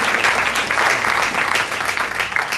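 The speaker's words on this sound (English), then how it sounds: "can we get a round of applause for ma'am?" A crowd applauds continuously at a conference's closing session, dense clapping from many hands filling the room at a steady, loud level.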